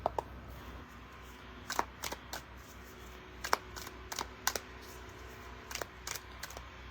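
Tarot cards are shuffled close by in a quiet room, with a scattered series of sharp light snaps and riffling clicks that come in small clusters.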